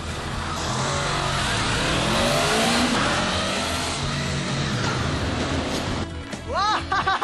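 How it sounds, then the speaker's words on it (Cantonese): A motorcycle engine revs loudly and continuously through a race on a TV game show, holding a dense roar throughout, with rising and falling pitch sweeps near the end and some voices underneath. "咦，彭生，點解你嗰個係電單車嚟㗎？"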